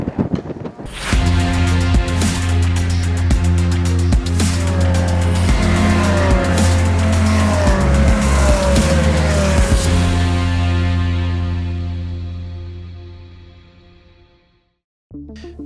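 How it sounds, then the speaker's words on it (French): Caterham Academy race cars roar past at the Pau-Arnos circuit during a race, engines screaming loud and close with gear shifts and some tire squeal, wind buffeting the microphone, before the sound fades away into near silence. "la promotion Académie a pu faire ses premières courses automobiles ici, sur le circuit de Port-Arnos"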